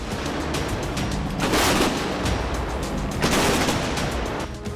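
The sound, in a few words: North Korean artillery guns firing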